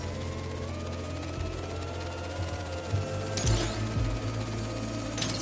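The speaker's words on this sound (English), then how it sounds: "The drone will self-pilot home and upload the data" A drone in Marvel's Spider-Man 2 gives off a steady mechanical buzz and whir, with a few sharper clicks and thumps partway through.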